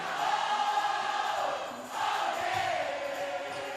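A basketball home crowd roars in a college arena during a men's game, a sustained loud wall of cheering and shouting that dips briefly in the middle and then swells again.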